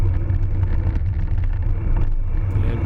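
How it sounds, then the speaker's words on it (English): A steady low engine rumble of a car turning in behind cyclists and passing close by, with rushing road and wind noise throughout. "So a car turning in behind the riders"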